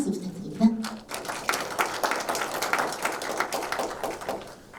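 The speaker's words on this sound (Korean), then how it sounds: "큰 박수 부탁드립니다." Scattered applause from a seated audience at a civic education forum, a dense patter of claps rising after a brief thump and holding steady, with faint voices mixed in.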